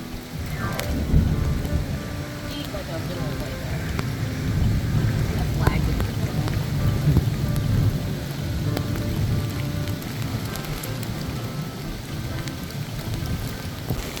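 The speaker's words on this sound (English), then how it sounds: "Very, very strong winds and rain." Heavy thunderstorm under a tornado warning during a July storm chase, with strong wind and steady rain drumming on a surface, thunder rumbling through a continuous loud roar.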